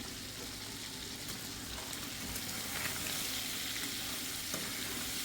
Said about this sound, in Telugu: మొత్తం అంతా మటన్ అంతా తీసి అట్లా ఆయిల్లో వేసేసానండి